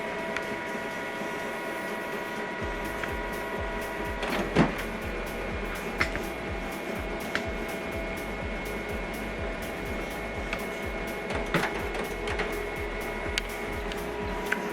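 An HP Color LaserJet Pro 4302fdw hums and whirs through a color calibration cycle, a steady mechanical drone broken by periodic clicks and gear ticks, with no talking.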